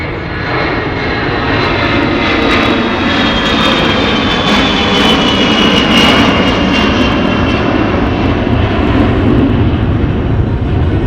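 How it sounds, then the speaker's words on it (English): A Boeing E-3 Sentry AWACS, derived from the 707 airliner, flies over at an air show. Its jet engines make a loud, continuous roar with a rising whine, steady throughout and without talk. "From Tinker Air Force Base in Oklahoma City, the E-3 Sentry AWACS."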